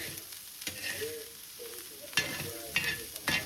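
Rice stir-fried on a tava, with close scraping strokes of a spatula over a continuous soft sizzle, the strokes coming in irregular bursts.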